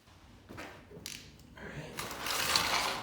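A wrench cracks loose the 17 mm oil drain bolt on a Yamaha FZ1 motorcycle, giving a few faint ratcheting clicks and metallic creaks close by before a louder scraping rush toward the end.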